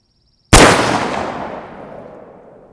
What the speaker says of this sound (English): still shooting at the same target, and let's see if we can get better performance out of this